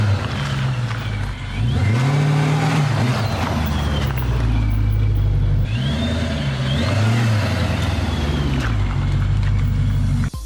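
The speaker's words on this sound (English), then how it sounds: "Give it a little launch. I just want to hear a little bit of that supercharger." A supercharged 2018 Dodge Charger police car launches and revs hard, its engine note rising and falling through several loud surges with supercharger whine on top, close and sustained for about ten seconds.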